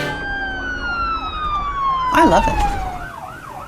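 Ambulance siren wails in a rising-and-falling sweep, close and loud, joined midway by a sharper yelp burst over a short spoken phrase.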